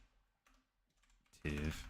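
Faint clicks of typing on a computer keyboard come in sparse taps, followed near the end by a brief louder burst of voice.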